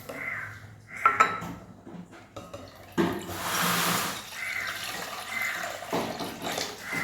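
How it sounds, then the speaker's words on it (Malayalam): Cold water pours into a cup in one loud, steady rush of about a second, after a few sharp clinks of the cup and other dishes, then quieter splashing and handling noises. "ഇനി നമുക്ക് തണുത്തവെള്ളം ഈ കപ്പിലേക്ക് ഒഴിച്ചു കൊടുക്കാം."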